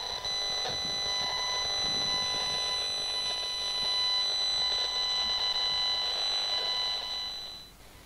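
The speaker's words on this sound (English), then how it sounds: "The sound comes from the Safe and Sound Classic 2." A Safe and Sound Classic 2 EMF meter gives out a steady high electronic tone, close and continuous for about seven seconds against a faint background buzz before it cuts off.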